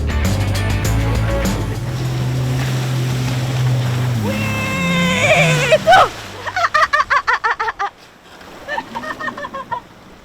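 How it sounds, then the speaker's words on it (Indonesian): A motorboat drones loudly on a river in Banjarmasin while a water skier is towed behind. Its engine pitch rises and falls, then water hisses and splashes in rapid rhythmic bursts toward the end, with no voices. "saya akan bermain ski air."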